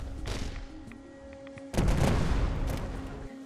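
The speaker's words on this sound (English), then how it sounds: "There's a bounce barrel, which allows your grenades to bounce before exploding." Explosive grenades from a bounce-barrel launcher in Fallout 4 go off as quieter pops and thuds, then a loud, sustained burst of blasts and rumbling that holds steady before cutting out.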